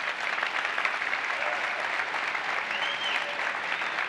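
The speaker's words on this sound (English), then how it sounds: "Give him a big round of applause." A crowd applauds Azure CTO Mark Russinovich at a live Q&A session, a thick continuous wash of clapping held evenly throughout, moderately loud with no voices on top.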